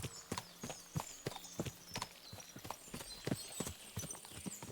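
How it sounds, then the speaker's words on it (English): Horses in the video game Kingdom Come: Deliverance II clop along with quick, rhythmic hoofbeats on a hard surface. The steps are fairly quiet and steady throughout, with no talking. "What a lot of horses."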